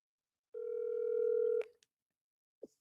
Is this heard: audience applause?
no